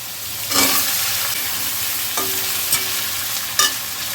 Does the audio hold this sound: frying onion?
yes